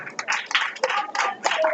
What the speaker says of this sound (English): Let's give a round of applause for this.